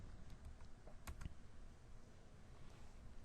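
Quick, faint keystrokes on a computer keyboard as a value is entered, a brief cluster of clicks over a quiet background hum.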